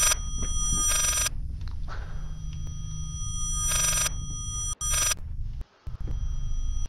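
A telephone rings in the horror game Layers of Fear with loud, repeated bell bursts separated by pauses, set over a steady low droning ambience with no talking.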